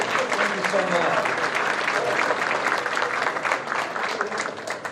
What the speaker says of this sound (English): would you please give them all another round of applause?